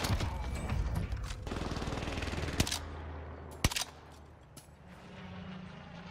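Rapid automatic gunfire rattles in Call of Duty Warzone on Caldera, sustained bursts that give way to a few sharp, loud single shots and a quieter lull, with no voices.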